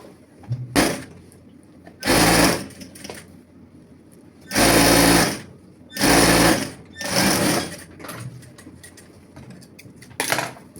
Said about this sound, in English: go ahead and sew it round